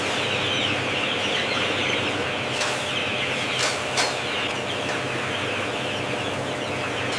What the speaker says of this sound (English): In the warmth of the brooder, these tiny chicks begin their journey.